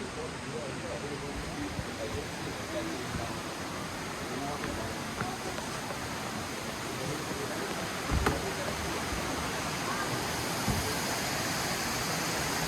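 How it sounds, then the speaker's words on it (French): A small waterfall on a river in a Miao village at FuRong, a steady broad rush of falling water that holds constant throughout, with a few faint knocks near the middle. "Là, il y a une autre petite cascade."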